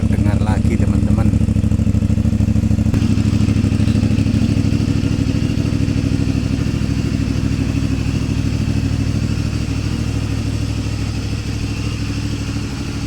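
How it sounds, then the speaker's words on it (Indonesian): A CFMoto 450 MT motorcycle, freshly repaired after a cam chain tensioner failure, idles steadily close by, its exhaust giving a continuous low rumble with light mechanical clatter throughout. "Suara knalpot sudah terdengar lagi teman-teman"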